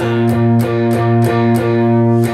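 Heavily distorted electric guitar chords ring out loud and sustained, re-struck in a steady rhythm about six times.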